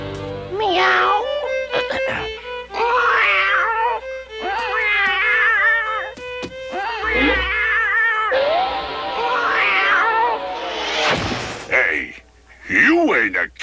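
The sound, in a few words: cartoon character imitating a cat meowing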